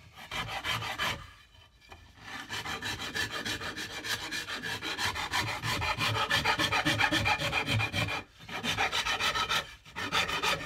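A rasp files wood for a cigar box guitar build, on the smooth side of the tool, in steady rhythmic back-and-forth strokes, close and loud, with two short pauses between passes.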